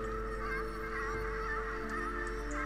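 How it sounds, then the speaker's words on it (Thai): A flock of geese playing in water honks continuously in Ori and the Will of the Wisps, a steady, moderately faint chorus of calls layered over a constant low drone of game ambience. "แอบดูฝูงห่านที่กำลังเล่นน้ำ"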